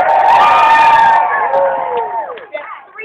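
A crowd at a turkey stampede rodeo show cheers and shouts loudly together, a dense sustained roar that gradually thins into scattered individual yells and whoops toward the end.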